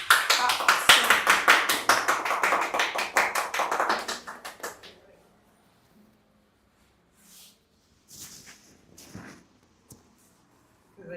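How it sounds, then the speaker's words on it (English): A quick run of steady hand claps, close and fairly loud, fading out after a few seconds, followed by faint scattered rustles. "I can clap, I will clap."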